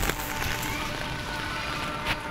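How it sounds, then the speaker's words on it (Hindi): Rain falls in Lahore, Pakistan, a steady broadband hiss of drops hitting surfaces that stays loud and even throughout, with faint voices underneath. "आप देख सकते हैं बारिश है"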